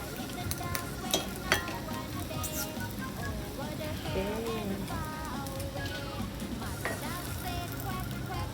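An egg fries in a pan, a steady soft sizzle and crackle running throughout, with children's voices and chatter layered over it and occasional utensil clinks.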